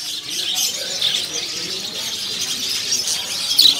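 Canaries, dark loper canaries, chirp in a bird shop kiosk: a steady, dense wash of high tweets and calls close by, continuous throughout with a slight rise near the end, no talk.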